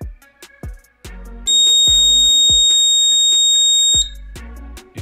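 A DIY automatic liquid level alarm for a non-metallic tank gives off a loud continuous electronic beep lasting roughly two and a half seconds, framed by brief clicking and tapping sounds before and after.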